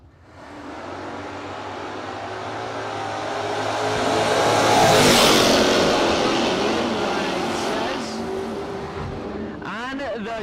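Drag race cars, one of them a 3rd gen Camaro, launch at a no-box race meet. Engines swell to a loud roar that peaks midway and fades as they pull away, and an announcer's voice comes in near the end.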